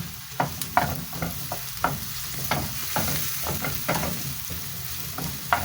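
Onion and garlic fry in a pan for a stew, with a steady sizzle broken by repeated sharp scraping stirs at an irregular rhythm, close and fairly loud with no talking.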